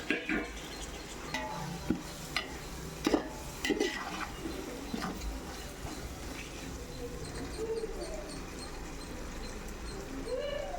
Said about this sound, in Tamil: முடிஞ்ச வரைக்கும் கிண்டி விட்டுகிட்டே இருங்க